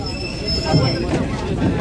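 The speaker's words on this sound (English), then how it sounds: "This is a holiday special train" An antique New York City subway train on a holiday special run rumbles and hums loudly with a high whine, wheels clattering beneath a murmur of people in the car.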